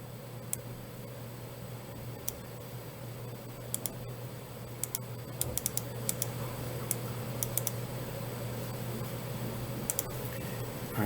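Computer keyboard typing while entering an annotation, sparse then quicker clusters of light clicking keystrokes over a steady low electrical hum, close and fairly quiet, no speech.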